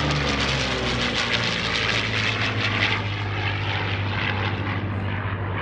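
A P-40 Warhawk propeller fighter roars past at an airshow-style World War II weekend event, its loud, steady engine drone filling the whole stretch without pause and fading only slightly near the end.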